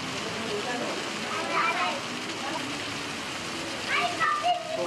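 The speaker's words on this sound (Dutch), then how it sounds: "Zo, regen nog." Steady rain falls as a dense hiss, with children's voices and other talk heard through it.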